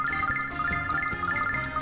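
Mobile phone ringtone playing a repeating electronic melody of steady tones over background game music, moderately loud and continuous with no talking.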